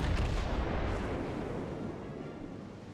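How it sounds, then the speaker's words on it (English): Naval guns of a battleship in World of Warships lobbing high-explosive shells: a heavy, rumbling boom that rolls out and decays slowly over a few seconds, loud and alone without talk. "He's firing high explosive because he disabled some of my anti-aircraft guns."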